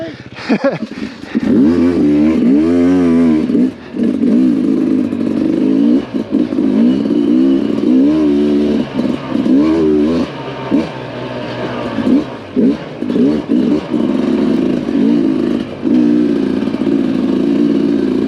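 A balanced off-road motorcycle ridden over rough wooded ground, its engine revving and dropping unevenly with clattering from the bumpy terrain, loud and close throughout.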